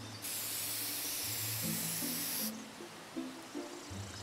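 A spray can hisses in the Treasure Hunter Simulator video game, one steady broadband burst lasting about two seconds, loud and close, over low game background tones.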